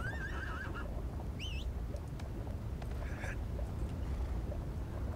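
A horse whinnies in the online fantasy game ArcheAge, a short wavering neigh heard early and again briefly, over steady ambient game noise with faint bird-like chirps.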